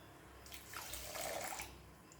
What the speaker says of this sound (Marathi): आणि साखर बुडेल एवढं पाणी यामध्ये घालायचं आहे